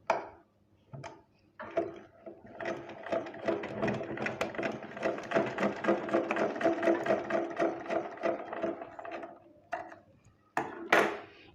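A sewing machine stitches cloth for a homemade hair band, a close rapid mechanical chatter that runs steadily for several seconds, with clicks and handling noises before and after.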